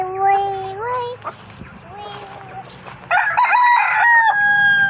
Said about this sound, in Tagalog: Manok bahay yan mga hunter